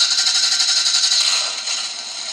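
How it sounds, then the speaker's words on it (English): A scratch-built custom Tamiya Pajero Monaro RC car's electronic sound unit plays a simulated engine start, a buzzy mechanical rattle that holds steady and close, then eases slightly toward the end with no talking. "Then you turn the sound unit on, which starts the engine"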